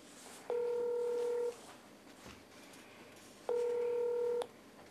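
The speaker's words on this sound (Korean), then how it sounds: "전화 연결 한번 해보도록 하겠습니다." Two bursts of telephone dialing tones, each a steady, loud electronic beep lasting about a second, separated by a quiet gap, heard alone without talk.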